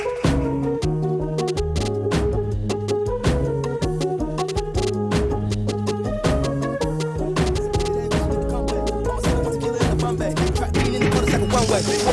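Hip-hop beat intro built from a chopped sample, with a short chant and a drum fill over a dense, steady loop of repeating bass notes and crisp percussion, played alone without talk.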